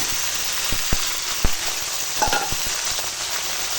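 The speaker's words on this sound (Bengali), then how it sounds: "এখন দিয়ে দেব এই দই দিয়ে মাখিয়ে রাখা মাংসটা।" Yogurt-marinated chicken pieces hitting a hot pan with papaya, tomato and ginger-garlic paste, giving a steady bright sizzle with a few sharp spatters and stirring knocks, close and alone.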